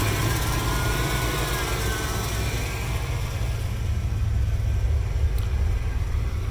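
A 1982 Ford Capri RS engine idling a little high, a steady low rumble with a constant hum heard close and continuously, no talking.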